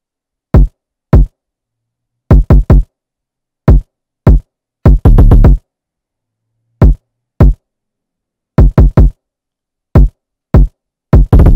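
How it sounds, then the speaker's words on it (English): Hard kick drum sample in FL Studio, sounding alone as loud, punchy, short thumps in an irregular rhythmic pattern with a quick roll in the middle. "I layered it with a hard kick"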